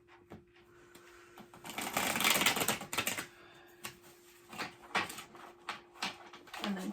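Bursts of crisp riffling and flicking as playing cards are shuffled, with a dense flurry early on, then scattered taps and quick riffles.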